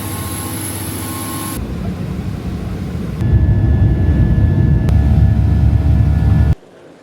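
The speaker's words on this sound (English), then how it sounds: "after a 45-minute flight, we've landed." A passenger airplane landing after a 45-minute flight fills the space with a loud, steady cabin roar that steps up in level midway, then drops off abruptly near the end.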